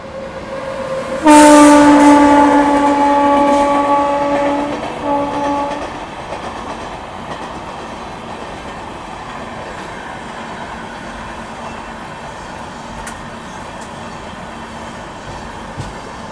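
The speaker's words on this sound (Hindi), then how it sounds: "तो भाई ये आ रही है जी डिब्रूगढ़ नई दिल्ली राजधानी एक्सप्रेस 20503" The Dibrugarh–New Delhi Rajdhani Express 20503 sounds a long, loud horn blast as it arrives, then rolls past with a steady rumble and clatter of wagons that fades slightly as it goes.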